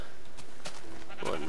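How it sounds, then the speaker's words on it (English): A Minecraft sheep bleats once near the end, a short wavering game bleat following a few soft clicks and thumps of gameplay. "One male sheep."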